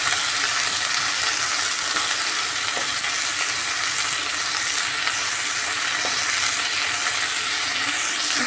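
Green beans with salt and chili powder fry in a pan for curry, giving a constant close, hissing sizzle with no talking.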